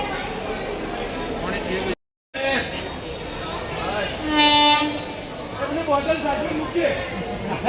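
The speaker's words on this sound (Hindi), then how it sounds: "हमारे फ्रेंड जो बोरीवली जा रहा है उसकी ट्रेन तो आ गई है अभी।" A passenger train pulls into an Indian railway station on the way to Borivali, its rumble and the rattle of wagons steady and fairly loud, a brief horn-like tone rising midway, with people talking over the platform noise.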